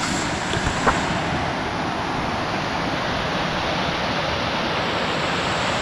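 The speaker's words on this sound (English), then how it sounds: "actually this is the second of 2 waterfalls at this campsite" Waterfall at a campsite on the Pacific Crest Trail gives a steady, loud, broad rush of falling water that never lets up, with no voices.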